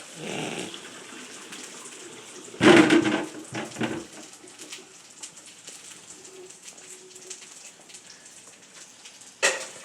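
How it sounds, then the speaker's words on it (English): Hot water from boiled potatoes poured through a strainer, heard as a loud gushing splash for about a second and a half, then smaller trickles and a brief final splash, with quiet kitchen background between. "And we are going to drain these potatoes."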